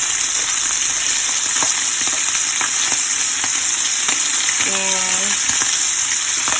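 Kielbasa sausages fry in a pan with a loud, constant close sizzle and crackle, while a voice speaks briefly over the sizzling.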